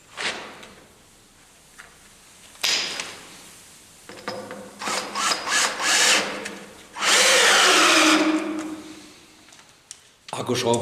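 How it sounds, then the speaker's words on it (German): A cordless drill driver strains while drilling into concrete formwork for a fireplace floor slab, giving several whining bursts that build to a long, loud, labouring run near the end. Talking is mixed in. "Akkuschrauber hoffnungslos überlastet, also muss was anderes her."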